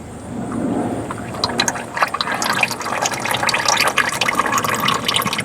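Motor oil drains from the oil pan of a 1997 Chevy Blazer 4.3L into a drain pan. It makes a continuous close pouring and splashing sound with small drips, with no voices.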